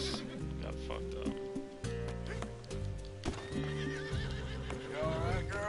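A horse in Red Dead Redemption 2 whinnies and snorts over steady clip-clopping hooves and a droning musical background, with a voice speaking briefly.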